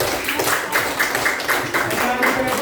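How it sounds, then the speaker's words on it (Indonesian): A classroom group breaks into applause for group 5, a dense, continuous patter of many hands clapping close by, steady and bright for the whole stretch, with a voice mixed faintly underneath. "tepuk tangan untuk kelompok 5"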